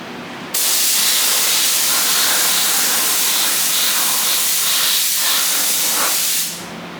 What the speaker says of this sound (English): Spray gun spraying a little weird